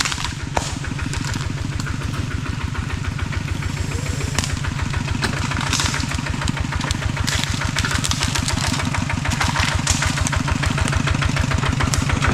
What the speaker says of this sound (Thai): ให้เจ้าทินเพิ่นถอยรถไถไปสินอนอยู่นี่พี่น้อง